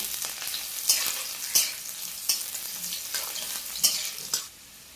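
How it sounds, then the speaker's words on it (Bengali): Chopped onion and fresh village greens sizzle in a hot pan with a steady crackling hiss, broken by several sharp scraping stirs spaced about a second apart before the frying drops to a quieter simmer at the end. "ছোট পরিমাণে একটা পেঁয়াজ কুচি করে রেখেছিলাম ওটাও দিয়ে দেবো এখন একটু নেড়ে ছেড়ে দেবো"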